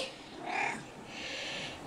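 A stray cat gives a single short, high meow that rises briefly out of a quiet room, then fades, followed by a faint second call, soft and fairly close.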